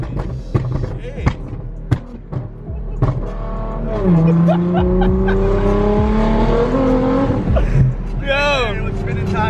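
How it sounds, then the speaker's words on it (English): A BMW 335xi revs hard and spins its tires, the engine note climbing and holding loud with a rising whine and tire noise, close by, over earlier clattering and with people shouting. "With spinning tires."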